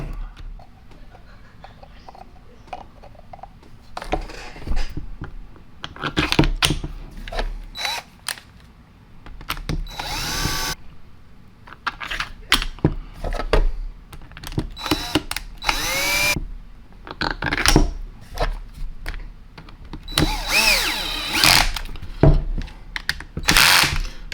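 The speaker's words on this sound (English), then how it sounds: "I'm using a power tool." Bursts of a power tool whirring and ratcheting as it tightens bolts around a gasket, repeated several times with pauses between, along with metallic clicks and handling noise nearby.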